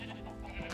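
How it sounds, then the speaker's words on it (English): A sheep bleats in a video game, a short, faint, wavering cry heard alone against quiet game ambience. "I have lots of sheep."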